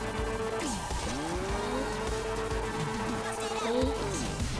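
A BMW M4 drift car is driven with its tires squealing in long sliding howls over a steady engine roar, with the pitch bending up and down through the slide.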